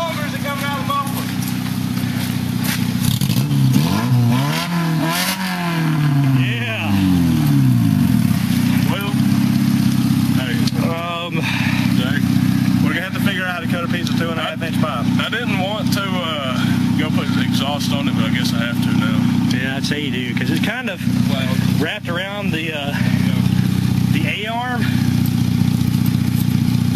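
A car engine revving hard with exhaust popping and crackling, running straight-piped after the muffler came off during an off-road outing, loud and close with rising and falling revs and sharp pops, under a voice at times.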